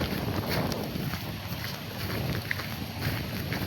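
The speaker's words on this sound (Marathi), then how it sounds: "वारा सुटलाय, पाऊस पडतोय" Wind gusting with rain during the first monsoon shower, a continuous broadband rush with low rumbling buffets against the microphone and no voices.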